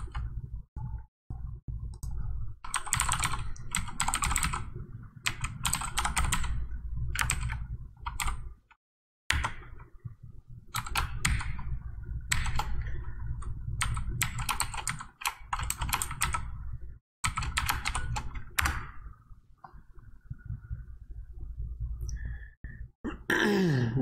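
Keys on a computer keyboard being typed in quick close bursts, clattering runs of clicks broken by short pauses, with a soft sigh or two between them.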